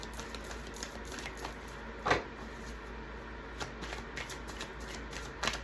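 Tarot cards shuffled and pulled from a deck during a reading, soft papery riffles and a few sharper flicks and slaps against a steady low hum, with no talking.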